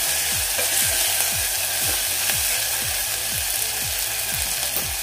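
A masala mixture frying in a pan for dal bati, sizzling steadily and loudly, with a spatula scraping the pan in a regular rhythm about twice a second and no one speaking.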